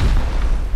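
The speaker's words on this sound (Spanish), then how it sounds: "Le vamos a tirar un misil" A missile explodes in a video game as one loud, close, low boom with a rumbling tail, with no talking.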